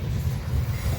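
Freight train rolling along the BNSF and Union Pacific lines in Fremont, Nebraska, a steady low rumble that holds at constant loudness throughout the short stretch, with no voices.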